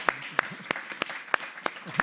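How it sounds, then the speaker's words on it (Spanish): Slow, evenly spaced claps ring out roughly every third of a second at a health conference, sharp and fairly close over a quiet room murmur, like a small group clapping in unison. "Y ahora pediría varios aplausos, uno para los magníficos ponentes."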